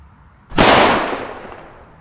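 Katan Super Böller 2018 firecracker with 5.5 grams of net explosive mass detonating outdoors, a single sharp loud bang after a quiet lead-in, followed by a decaying echo tail.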